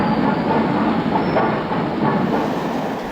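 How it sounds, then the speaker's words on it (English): LNER A4 class Pacific steam locomotive Union of South Africa, number 9, running on the main line: a steady, loud rolling roar with rhythmic wheel clatter over rail joints, continuous throughout with no voices. "A regular performer on the main line for many years has been LNER A4 class, Union of South Africa."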